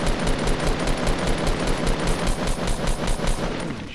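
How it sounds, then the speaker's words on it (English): Rapid, sustained automatic gunfire from the Fortnite video game, loud and dense with bursts overlapping continuously, with no talk over it. "keep firing if you can"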